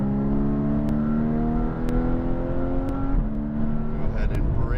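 Race car on a racetrack accelerating out of a corner, engine note climbing steadily in pitch under throttle with brief shift blips, loud and close from inside the car, with a driving instructor talking over it.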